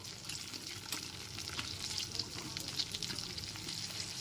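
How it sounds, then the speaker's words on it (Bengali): Red, yellow and green capsicum pieces fry in melted butter and oil in a pan, giving a steady, soft crackling sizzle with small pops throughout. "এরপর এতে কেটে রাখা ক্যাপসিকামের টুকরোগুলোকে দিয়ে দিচ্ছি।"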